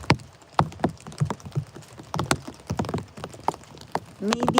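Rain patters in scattered drops on a covering at an eagle nest, uneven taps near the microphone, light and intermittent, with no voices.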